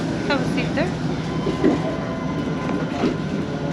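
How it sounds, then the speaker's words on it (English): Hiroshima tram pulling away, a steady rumbling ride with soft rhythmic wheel clatter and faint squeals, with people talking quietly in the background. "we are taking the tram"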